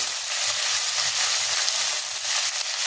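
Spinach and coriander leaves fry in a pan for mushroom biryani, giving a steady, close, bright sizzle with faint stirring scrapes underneath and no talking.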